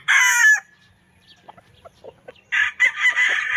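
A Lemon 84 broodcock rooster lets out a loud, close crowing burst, then soft clucks in a quiet stretch, then another loud crow.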